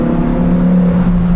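A Lamborghini Huracan STO engine drones loudly and steadily at close range, holding a constant rich, buzzing tone without clear revving peaks.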